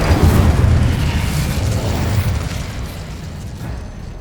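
An Incendio fire spell blasts in the video game Hogwarts Legacy, a loud, sustained roaring burst with heavy low rumble that holds for about four seconds before slowly easing off.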